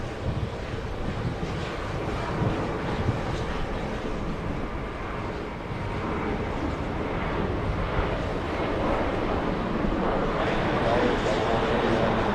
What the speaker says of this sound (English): this is British Airways Flight 173 inbound from London Heathrow